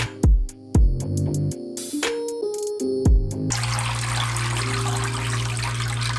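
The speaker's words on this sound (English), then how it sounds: "Now all I'm doing is scrubbing my scalp while it's all the way immersed into the water" Dreadlocked hair and scalp being scrubbed and rinsed while fully immersed in a water-filled sink; after a few ringing tonal notes, a steady, close wash of sloshing, rushing water carries on to the end.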